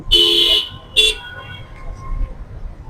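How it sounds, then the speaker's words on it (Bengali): Rainy road traffic at the Diabari roundabout near the metro rail, where cars, rickshaws, auto-rickshaws and motorcycles pass. Two loud close horn blasts come early, then a steady low rumble of vehicles. "শুধু গাড়ি না, রিক্সা, অটো রিক্সা, মোটর সাইকেল সব কিন্তু চলতেছে এই বৃষ্টিতে"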